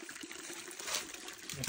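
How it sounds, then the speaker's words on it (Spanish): Water trickles out from under a stone in a creek where two rivers meet, a faint, close, steady liquid dribble heard on its own. "miren donde sale el agua de esa piedra"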